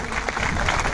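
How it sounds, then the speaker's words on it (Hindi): Conference crowd at a founding-day gathering in Indore clapping loudly, a brief burst of dense, continuous applause. "एक बार जोरदार तालियां बजाइए साथियों।"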